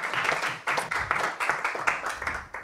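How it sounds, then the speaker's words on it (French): Audience applause at a French university science-communication competition final, a dense burst of clapping with uneven swells lasting a few seconds, moderately loud and close, with no voices over it. "On l'applaudit, mesdames et messieurs."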